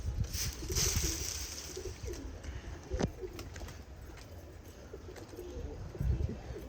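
Soft, low cooing from pigeons repeats over a faint background murmur, with a couple of brief knocks and scuffles nearby as a newly caught, marked female pigeon is handled.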